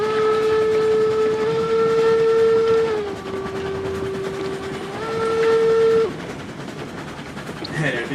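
Steam locomotive whistle in the video game Railroads Online, a loud, sustained multi-tone blast that dips in pitch midway and then rises again before cutting off, with rolling train rumble behind it.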